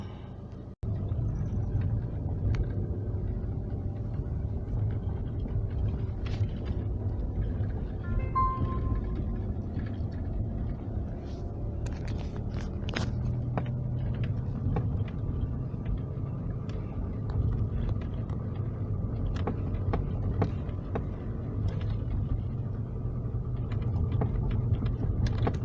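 A 2006 Volkswagen Golf 2.0 TDI with an ABS fault is driven on a test drive, heard from inside as a faint, steady low rumble with occasional small knocks and clicks.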